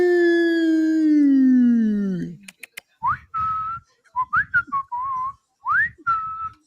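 A long, falling, whistle-like tone, then a series of short rising and wavering whistled notes separated by brief pauses.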